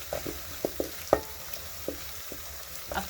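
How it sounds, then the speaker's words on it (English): Garlic frying in a pot for Swahili pilau, stirred so it won't burn: a soft, steady sizzle with a handful of scattered scraping clicks from the spoon, fairly quiet and free of talk. "then keep stirring so that it doesn't burn"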